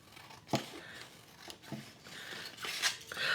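Scissors cut paper for a journal pocket: a handful of crisp, separate snips spaced out over a few seconds, close and fairly quiet, with no talk.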